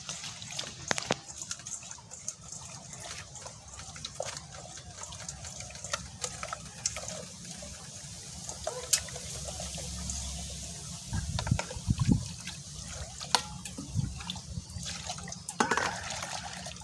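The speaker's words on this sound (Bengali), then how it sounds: "লবণ দিয়ে একটু ধুয়ে নিব।" Pieces of rohu fish being washed with salt and water in a village kitchen: running, trickling water with splashes and small drips, steady throughout, close by, with no talking.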